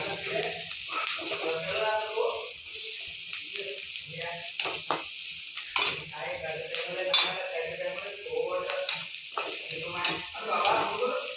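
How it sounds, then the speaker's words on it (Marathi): Onion sautéing in a pan for wheat upma, heard as sizzling broken up by repeated scrapes and clinks of a spoon against metal, a busy, uneven clatter close by with no clear speech. "छान प्रकारे हा कांदा मी भाजून घेणार आहे"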